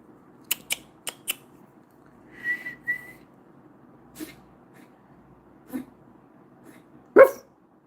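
A person imitates dog sounds close by: quick tongue clicks, a short whistle, scattered sniff-like puffs and a loud bark-like yelp at the end, with quiet gaps between them.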